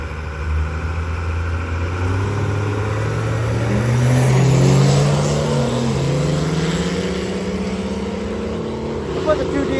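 Cummins diesel truck making its first pass down a drag strip, a loud engine roar rising through several gear changes with swelling, shifting pitch, then fading slightly as it pulls away.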